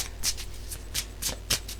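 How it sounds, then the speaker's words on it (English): A deck of cards being shuffled by hand, a series of quick crisp riffles in a steady rhythm, close and fairly quiet with no talking. "as I shuffle, take some time to focus on your question"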